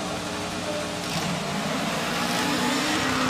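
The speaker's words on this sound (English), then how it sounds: "Louis de Haas away from the line in the Opel Corsa at the inside line." Rallycross cars leave the start line at Valkenswaard, with an Opel Corsa on the inside line, engines droning and revving steadily at moderate distance under a broad wash of crowd and track noise.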